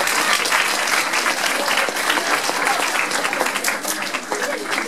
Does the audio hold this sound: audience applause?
yes